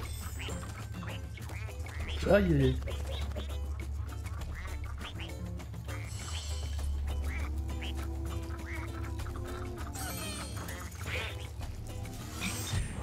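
Cartoonish duck quacks from the platform video game Rayman Legends, a sharp, loud burst of quacking early on, then fainter scattered quacks over steady game music and effects, with a brief exclamation from a player.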